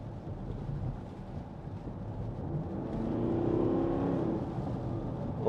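A 2014 Porsche Cayenne S 4.2 TD diesel with Tiptronic S gearbox and four-wheel drive accelerating on a road, a low rumbling engine note swelling midway under steady wind buffeting, recorded from inside the car, with no talking.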